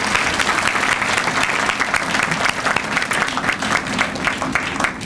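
An outdoor groundbreaking crowd gives a councilman a strong, sustained round of applause, dense clapping from many hands holding steady throughout.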